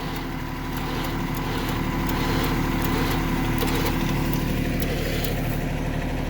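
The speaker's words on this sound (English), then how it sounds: "So right now it's pulling the tractor towards the blocking." A Traveller 9000 lb winch mounted on a Kubota LX2610 tractor drags boulders, its steady motor drone and mechanical hum running continuously at fairly close range with no speech over it.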